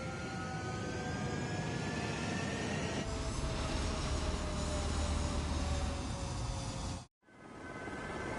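Fighter jets roaring on a runway during takeoff in the flight combat game Ace Combat 6, a steady loud jet engine rumble with rising whine that cuts out briefly near the end before resuming.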